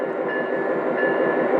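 Lionel toy train running on a home layout, pulling a set of Amtrak passenger cars, with a steady close rolling rumble and a faint high whine throughout.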